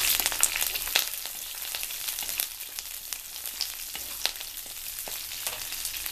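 Green chillies and garlic frying in a pan for rasam, a soft, steady sizzle scattered with sharp little pops and crackles throughout, with no voices.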